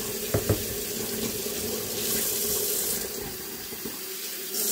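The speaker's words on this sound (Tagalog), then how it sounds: "Hugasan ko ang strawberry." Water runs steadily from a kitchen tap over strawberries being washed, a continuous close splashing stream with a couple of brief knocks near the start.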